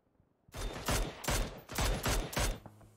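Gunfire in a battle royale video game: several short bursts of automatic shots at close range, loud and sharp, each followed by a quick decay, with no voices.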